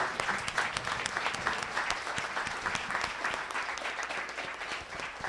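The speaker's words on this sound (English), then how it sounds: "I need you to give up one final roof-raising Red Emma's round of applause for Charisse Burden-Stelly" Sustained applause from an audience at a book talk fills the room, dense steady clapping that rolls on for several seconds with no speech over it.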